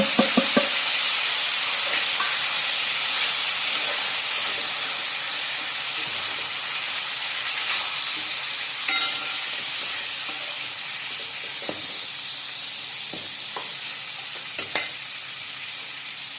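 Steady, crackling sizzle of spices frying in hot oil for a Kadaknath black chicken curry, with occasional light clicks of stirring throughout.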